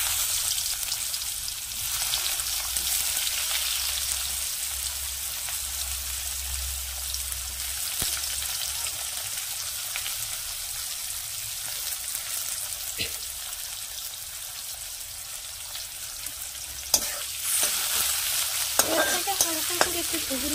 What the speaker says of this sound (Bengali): হালকা করে একটু ভেজে নেব, ব্রাউন করে নিয়ে তারপর আমি মশলাটা বের করে দেব।